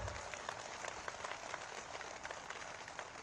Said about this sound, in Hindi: एक बार तालियां बजाकर इनका जब स्वागत कर दीजिए जोरों से।